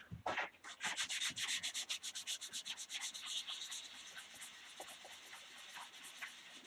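Rapid rhythmic rasping of sandpaper on a wooden piece on a lathe, close and loud at first, settling into a softer continuous scratchy hiss.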